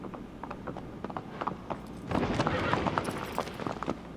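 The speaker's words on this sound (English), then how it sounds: "Oh, hello, horse. Oh, a horse." Horse hooves clip-clop in an uneven rhythm over a low background in the video game Shadow of the Colossus, growing busier and louder midway, with mechanical clicks mixed in.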